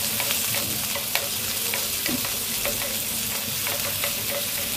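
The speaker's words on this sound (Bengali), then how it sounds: "এই তো সসেসগুলো একটু হালকা করে তেলে ভেজে নিলাম" Cut sausages fry in oil with a steady, dense sizzle and crackle, loud and close, with occasional faint clinks of stirring.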